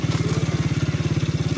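Motorcycle engine running close by, a loud, steady low chugging pulse with a quick even rhythm and no talk over it.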